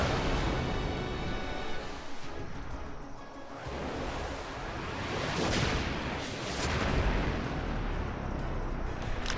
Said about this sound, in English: I kind of just wanted to show you guys his Hellfire animation here.